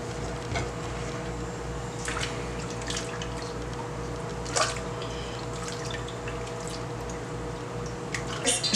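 Cut potato fries being dropped into a bowl of cold water for fish and chips, soft drips and small splashes scattered over a steady low background hum, close and moderately quiet.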